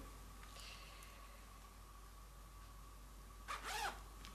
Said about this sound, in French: donc fermeture éclair sur le milieu